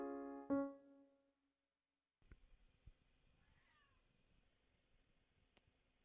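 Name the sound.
cat meowing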